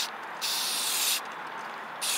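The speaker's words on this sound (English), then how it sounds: "I am going to spray this too very lightly just to kind of make it all the same color." Short bursts of spray paint hiss from an aerosol can coating an RV propane tank, two steady hissing passes with a pause between and a third starting at the end, close and fairly quiet.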